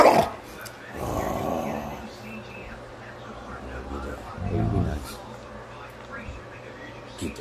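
A dog growls and snarls in low rumbling bursts at close range, with a person talking over the sounds.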